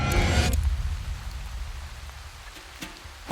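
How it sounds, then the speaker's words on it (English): Rain falls at a jungle villa in Bali with a steady hiss of drops, louder at first and then settling into a constant patter. "Unfortunately, it started raining."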